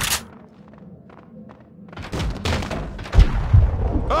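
Enemy gunfire in Max Payne 2, heavy thuds and shots building from quiet ambience into several loud, close impacts near the end.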